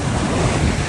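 Strong ocean waves break on a beach with clear sand in General Nakar, Quezon Province, a loud, continuous roar of surf mixed with heavy wind buffeting the microphone, with no voices.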